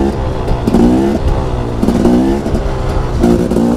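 A motorcycle engine revs in repeated bursts, the throttle cutting back between each rise, loud and close with a harmonic roar that swells and drops roughly every second.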